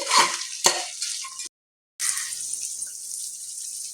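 Onions and peas being stirred in a hot pan for tomato bath give close scraping strokes over a steady frying hiss, cut by a brief silent gap partway through before the sizzle resumes.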